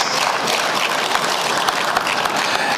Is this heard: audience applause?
yes